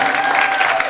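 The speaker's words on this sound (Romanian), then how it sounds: "Aplauze" An outdoor crowd applauds briefly and steadily at a town festival's children's music stage in a park in Slănic Moldova.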